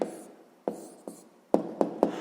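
Pen or chalk strokes while writing an answer to a sixth-grade math exercise, six separate taps and scratches spaced irregularly, close and fairly clear with no talking.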